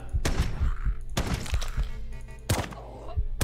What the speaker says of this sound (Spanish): ¡Una granada!